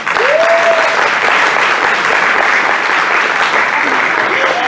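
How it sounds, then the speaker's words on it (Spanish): Loud, steady applause from an audience at a literary event, continuous dense clapping close by, with a faint voice briefly audible in the crowd. "ese otro aplauso, por favor."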